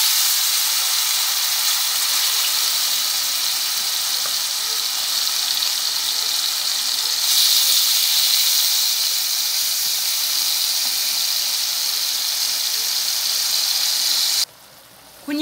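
Meat sizzles in hot oil in a large cooking pot for a Brazilian-style beef dish, a loud, close, continuous hiss and crackle that carries on steadily and then cuts off abruptly near the end.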